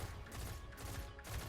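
Pulse rifle bursts in Destiny 2 crackle steadily through a dense, loud wash of firefight noise, with rapid repeated shots running the whole stretch and no clear gaps.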